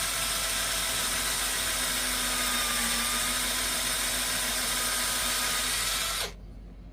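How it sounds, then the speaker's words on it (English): A steady high-pitched whine of a small power drill boring into a wooden bead runs continuously for about six seconds, then cuts off abruptly, leaving quiet background hiss. "You can drill it partway in one bead and partway in the other, or right in the crack."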